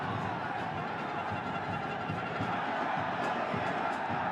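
A stadium crowd at a New York City FC home match against Comunicaciones roars and cheers after an offside call, a dense continuous swell of many voices filling the venue with no let-up.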